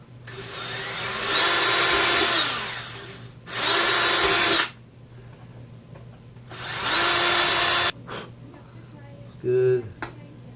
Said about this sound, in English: I'm gonna drill a couple of these holes.